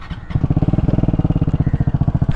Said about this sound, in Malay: Korang boleh dengar bunyi exhaust kan?